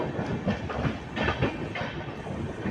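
A passenger train runs just after leaving Nagpur, a steady rumbling roar with faint rhythmic clatter of wheels on rails, heard from inside the carriage without talk.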